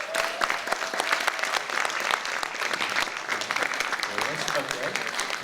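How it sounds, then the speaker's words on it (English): Audience applause fills a Broadway benefit show, a dense steady wash of clapping from a full house that stays loud and even throughout, with no talking over it. "So give yourself a round of applause for being here."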